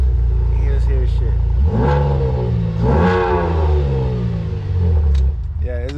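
A V6 car engine revs up loud and close, the pitch rising and falling in several sweeping surges over a rough idle, with a voice speaking over part of it.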